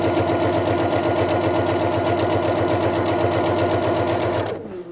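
An Eversewn SparrowX sewing machine stitches steadily in a fast, even mechanical whir with a rapid rhythmic needle chatter, loud and close, running without pause before slowing and stopping at the very end.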